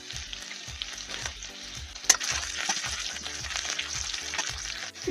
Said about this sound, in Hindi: डाल देंगे हींग, डाल देंगे लहसुन, हरी मिर्च, अदरक। तो थोड़ा सा भूनने देते हैं इसको।